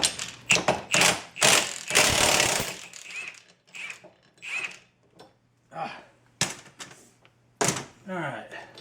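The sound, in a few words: wheel stud pulled into Jaguar hub by tightening lug nut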